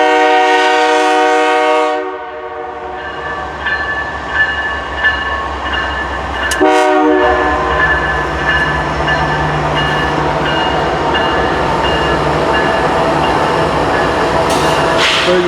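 A CN M384 eastbound freight train in Port Huron, Michigan sounds a loud, sustained multi-tone horn, then its locomotive and cars rumble steadily past nearby, with another short horn blast midway and again near the end.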